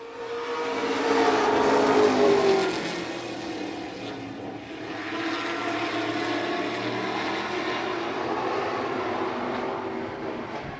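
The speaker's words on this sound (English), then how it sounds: "The Catscales number 80 car owned by Brad Watson." Pro stock race cars lapping an oval track during a race, a steady far-off engine roar that swells as a car passes, fades, then holds at a constant drone with no talk over it.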